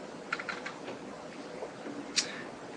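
A computer keyboard being typed on to rename a pivot table field, a few soft, sparse key clicks with one sharper tap near the end, quiet and with no voice.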